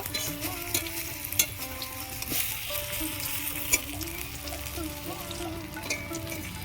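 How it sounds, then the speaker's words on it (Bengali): An egg-free vegetarian omelette, folded side down, fries in hot oil in a pan with a steady close sizzle, some faint tonal background sounds and a couple of soft knocks, with no speech. "যেদিকে আমি ভাঁজ করেছি সেই দিকটা নিচের দিকে করে ভেজে নেব"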